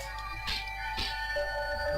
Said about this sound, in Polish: Jak jeszcze telefon mi dzwoni, czyli standard.